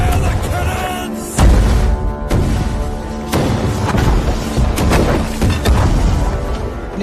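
Cannons fire in an animated battle, loud booming blasts repeating every second or so, with heavy thuds layered over shouting battle voices.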